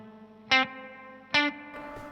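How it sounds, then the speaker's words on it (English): Single guitar notes played through an Anasounds Elements spring reverb pedal with all controls at noon, two bright plucked attacks each followed by a lingering springy reverb tail, with a softer third note near the end. "then it becomes clear that there's a reverb going on"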